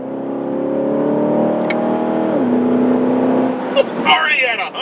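A 2015 Chevrolet Corvette sports car accelerates hard from inside the cabin. Its loud, droning engine tone holds steady, then drops sharply at a gear change and climbs again, and a voice breaks in near the end.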